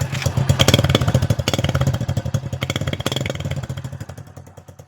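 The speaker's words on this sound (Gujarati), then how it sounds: "તમે બાઇકનો અવાજ સાંભળો મિત્રો" A motorcycle engine, just started and warmed up, runs steadily nearby with a loud, throbbing low rumble and rapid pulsing beats that hold for the whole stretch, easing slightly toward the end.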